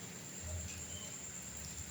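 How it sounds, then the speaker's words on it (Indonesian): Steady rain falls outside during an Islamic Sufism study session, a continuous soft broadband hiss with no distinct drops or other events. "Hujan ini menjadi aral, hujan ini menjadi sambungan ya."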